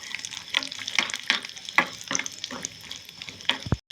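Cashews frying in a pan, a sizzling crackle broken by repeated sharp spatters and stirring scrapes at an uneven pace, fairly close, with a brief pause near the end.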